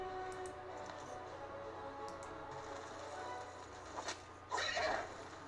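A horse whinnies in the video game Age of Wonders III, a faint, brief neigh near the end over quiet background game sound, with no talk over it.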